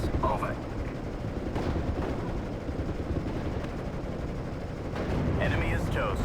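Artillery barrage in the World War II strategy game Steel Division: Normandy 44, set in Normandy hedgerow country on D-Day: a continuous, dense roar of heavy gunfire and explosions, loud throughout, with faint radio-style voices mixed in.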